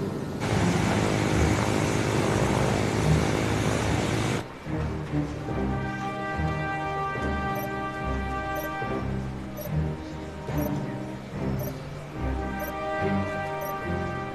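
A plane carrying a passenger in flight changes course toward Zagreb, its engine a steady drone that continues throughout, loud and close at first and then lower under a music score.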